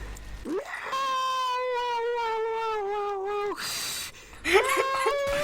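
A person imitates fighting cats with a long, rising and falling yowl, then breaks into a second shorter wail.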